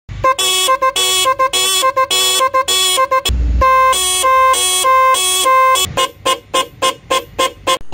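A car's double horn honks loudly in a rapid series of double-toned blasts, then a long sustained blare, followed by quick short toots.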